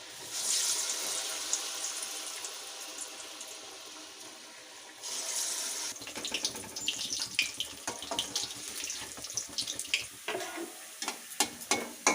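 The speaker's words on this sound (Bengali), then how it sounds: "এবার আমি এগুলো একটা একটা করে গরম তেলে ছেড়ে দেবো" Banana fritters made with semolina, jaggery and coconut are dropped one by one into hot oil. A soft hiss at first gives way to louder crackling and bubbling frying with clicks from handling, close by and with no speech.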